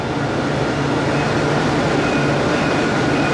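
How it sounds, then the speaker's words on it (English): Riding inside a Dubai tram, a loud, steady rumble of wheels and motor fills the car with constant broadband noise and a faint high whine, unbroken and without speech. "This is like one of the best trams I have ever been to."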